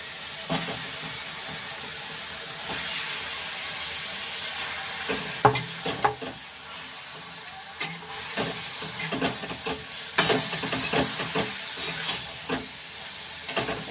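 Chicken pieces sizzle and fry in a pan for chicken korma, a steady hiss broken by repeated sharp crackles and stirring clatters, close and fairly loud with no voices.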